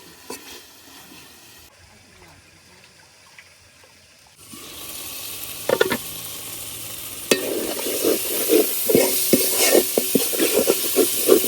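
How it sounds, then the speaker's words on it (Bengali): Sour tree fruits being sautéed with spices for a fish curry, a steady frying sizzle that swells after a quiet start, broken by close clinks and scrapes of stirring. "টক ফলগুলা আর একটু কষাই নিলাম মশলার সাথে"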